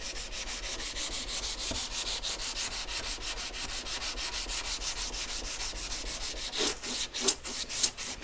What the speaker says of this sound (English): Work over the length of the sandpaper, just moving it around Trying to wear everything evenly.